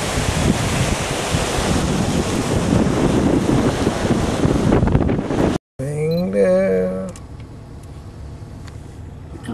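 Ocean surf rolls onto a black sand beach in Hawaii, a loud continuous wash of waves buffeted by heavy wind on the microphone, then cutting to a quieter stretch with a faint hum and distant noise.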